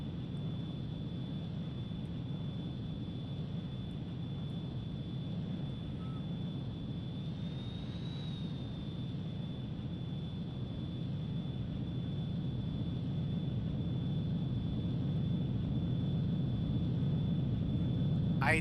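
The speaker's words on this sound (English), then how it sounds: "We're landing at the airport." Jet aircraft landing at an airport in Ace Combat 3, a continuous engine whine and rumble with a thin high tone, holding steady and swelling slightly toward the end, no voices.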